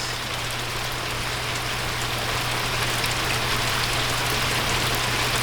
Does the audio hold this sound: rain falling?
yes